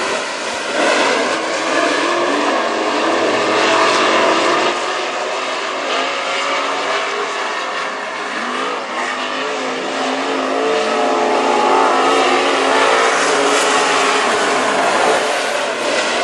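WISSOTA Super Stock race cars roar around Princeton Speedway, a dense, loud, continuous engine drone as the pack takes the green flag, sustained without pause throughout.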